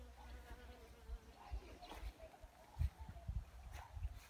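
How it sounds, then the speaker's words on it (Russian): A bee works tree peony blossoms after rain, a soft wavering buzz heard close but faint, rising and fading through a quiet garden, with a few low bumps underneath. "Пчелка там работала только что."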